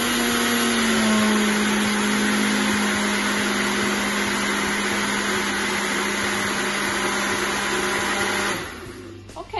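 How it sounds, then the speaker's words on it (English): A blender or Nutribullet whirs loudly and steadily while blending a homemade pet treat mixture, a high motor whine that holds for about eight seconds before cutting off abruptly. "put it into your blender or Nutribullet"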